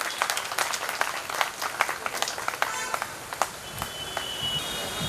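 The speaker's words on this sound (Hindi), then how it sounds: "जोरदार तालियां देते जाइए" An audience at an Indian community felicitation ceremony claps steadily, a dense, moderately distant patter of hands with a few sharper individual claps standing out, no speech over it.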